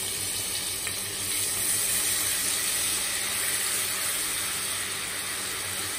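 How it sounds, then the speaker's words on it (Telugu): Ginger, garlic and chopped green chillies fry in a pan for an egg and tomato curry, giving a steady, close, even sizzle that holds throughout with no talking. "పచ్చివాసన పోయే వరకు వేయించుకుందాము"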